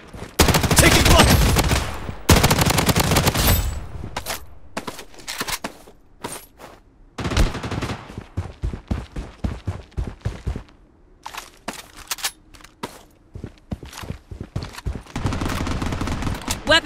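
Gunfire rattles through a Project BloodStrike match in loud automatic bursts and rapid single shots that come in clusters, with short quiet gaps between them and a heavy sustained barrage at the start and end.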